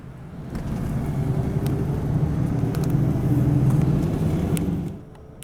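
Interior of a highway coach on an overnight run toward Kobe Sannomiya, with a steady low engine and road rumble filling the cabin at a moderate level, fading slightly near the end.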